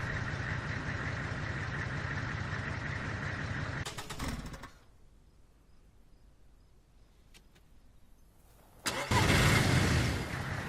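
A car in the DayZ video game drives and revs with a buzzing mid-pitched engine drone, cuts out into near silence for several seconds, then restarts and surges loudly again.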